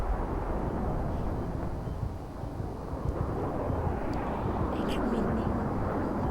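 A military aircraft in the video game Battlefield 3 gives off a steady, dense engine roar that continues throughout, with a voice talking faintly underneath.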